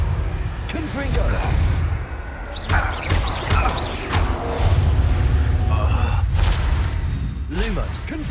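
A Confringo fire spell blasting in Hogwarts Legacy, sharp whooshing bursts and booms repeating several times amid combat noise, with a voice speaking over the action.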